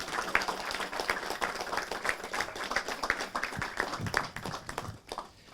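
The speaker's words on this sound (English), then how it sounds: "Can we just give another massive round of applause for these amazing guest speakers?" Audience at a networking event in Whyalla applauding guest speakers, a steady dense patter of many hands clapping throughout, moderately loud and fairly close, with no speech over it.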